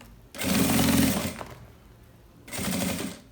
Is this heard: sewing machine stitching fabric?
yes